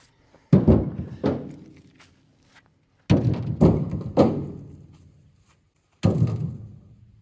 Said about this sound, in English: now I'm going to load these rounds up into the trailer